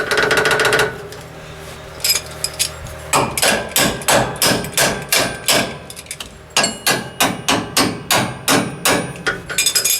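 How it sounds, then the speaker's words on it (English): Loud metallic hammer strikes ring out in quick, steady bursts after a brief opening clank, dozens of blows pounding hard and close, driving a bolt through during a Ford F-350 shock replacement. "hammer it through"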